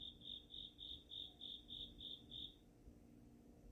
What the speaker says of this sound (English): the cricket that lives in the wall of my girlfriend's house has opinions